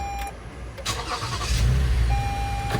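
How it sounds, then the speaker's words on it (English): A 2017 Toyota Sienna minivan engine cranks and catches, then settles into a steady low idle rumble, preceded by a brief chime and some handling noises, close by and without speech. "you want to start up the car"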